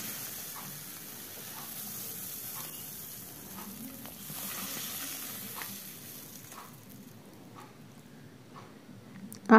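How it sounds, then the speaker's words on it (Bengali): Pomfret fish and potatoes fry in hot oil, giving a steady close sizzle and hiss with occasional soft stirring taps over about ten seconds, no talk. "এভাবে বাকি মাছগুলো আমি ভেজে নেব।"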